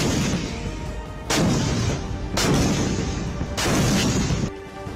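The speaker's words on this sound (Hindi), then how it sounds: "Pinaka multi barrel rocket system और K9 वज्र तोप की गूंज किलोमीटर दूर बैठे दुश्मन के लिए सीधी मौत का पैगाम लाती है" Artillery from a Pinaka multi-barrel rocket system and K9 Vajra gun fires in three or four heavy blasts, each a sharp crack followed by a long rumbling roar, loud and close, with no talking.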